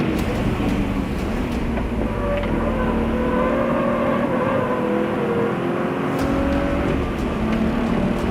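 A BMW 1M driving hot laps on a race track, its engine note carrying steadily in a continuous drive with shifting pitch and tyre and wind noise, without talk.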